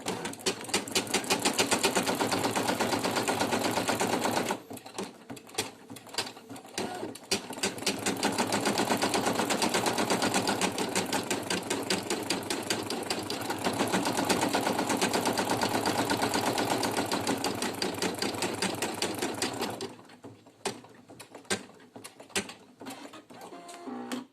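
A Brother PE800 embroidery machine stitches a minky teddy bear applique onto a T-shirt: loud, steady, rapid needle chatter running close up, broken by two brief pauses and stopping near the end.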